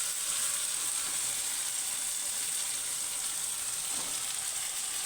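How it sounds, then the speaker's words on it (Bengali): Mutton pieces dropped one by one into a hot pan with tomato give a steady, even sizzle of frying meat that stays constant throughout, with no voices. "এর মধ্যে মাংসগুলো একে একে ছেড়ে দিচ্ছি"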